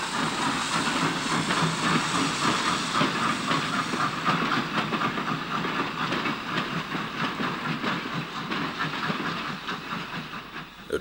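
Steam locomotive 31177 working a push-pull train on the Westerham branch in 1960, a steady hiss with rhythmic chuffing and rail clatter at moderate distance, sustained throughout.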